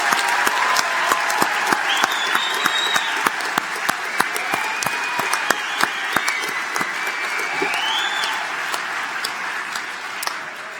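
A large commencement audience applauds engineering graduates in a big hall, a long steady wash of clapping with sharp individual claps and cheers popping out above it, plus occasional whistles.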